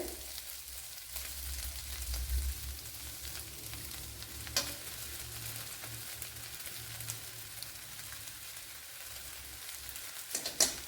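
Egg being stirred as it fries in a pan for a simple okra (vendakka) dish, a soft steady sizzle with scraping stirs throughout, close and moderately quiet, with no talking.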